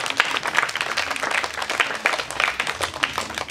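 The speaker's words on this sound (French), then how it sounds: "Allez, applaudissez." Steady applause from a crowd, dense clapping that continues throughout at an even, fairly loud level.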